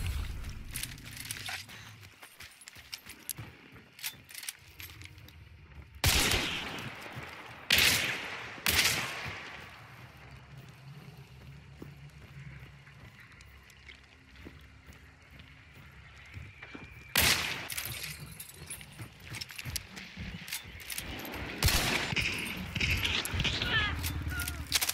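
Gunfire in the video game Hunt: Showdown sounds as sharp, loud bursts of shots spaced several seconds apart, over quieter background game noise with occasional thuds.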